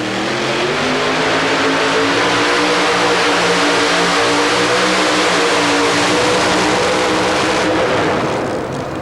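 The Midnight Express Chevrolet El Camino, driven by Ken Lamont at a 1990 two-wheel-drive truck pull at the Omni in Atlanta, roars at full throttle with a loud, sustained engine note that barely wavers for the whole run.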